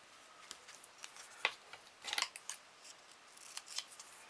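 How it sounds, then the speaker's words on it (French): Scissors snip through paper while an autumn greeting card with mini rosettes is cut out, a string of short, crisp cuts spaced irregularly, with a slightly louder burst near the middle. The snips are close and quiet, with no talking. "vous allez me regarder découper"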